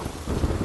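Heavy rain pours down with rumbling thunder, a dense, continuous roar of falling water and low booms, close and loud with no voices.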